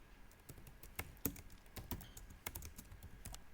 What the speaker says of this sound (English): I will be typing the name manually